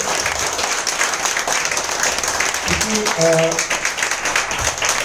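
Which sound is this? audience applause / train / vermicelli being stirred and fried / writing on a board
audience applause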